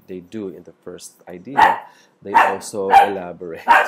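A dog barks several times in short loud bursts, overlapping a person lecturing nearby.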